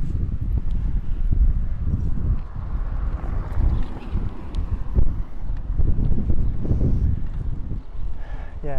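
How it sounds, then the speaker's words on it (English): Strong gusty wind buffets a microphone while cycling on a windy day, a constant low roaring rumble with irregular thumps and surges throughout, close and loud with no voices. "It's a very windy day today"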